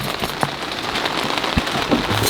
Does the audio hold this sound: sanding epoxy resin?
no